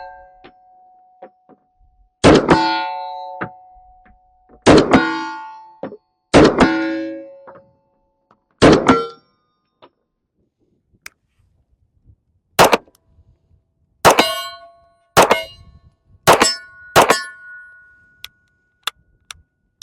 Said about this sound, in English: But let's just keep shooting.